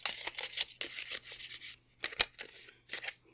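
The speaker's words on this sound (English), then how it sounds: "Oh boy, that was quite a messy shuffle." A deck of tarot cards is shuffled by hand in a quick, messy series of crisp riffling and sliding bursts, close and fairly quiet, with no one speaking.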